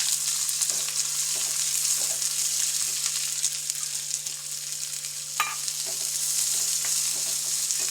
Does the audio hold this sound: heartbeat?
no